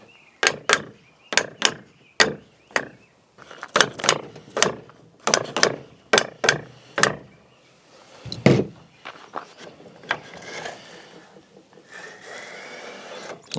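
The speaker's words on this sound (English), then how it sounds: "I'm just going to take my hammer and lightly just tap it off." Hammer tapping on a flooded Rockwood camper's drive motor and frame: a run of about a dozen sharp, evenly spaced metallic knocks, then scattered fainter clanks and handling noise.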